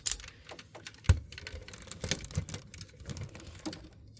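Rapid small plastic ratchet clicks come from the joints of a SamG Entertainment Metal Cardbot S Sky Gallop toy figure. The clicks are close and quiet and arrive in uneven bursts, with one sharper snap among them.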